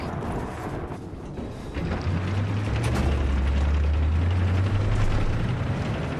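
A tank in the Battlefield 4 game roars with a heavy, steady engine rumble and mechanical clanking that swells after the first couple of seconds and keeps droning loudly throughout.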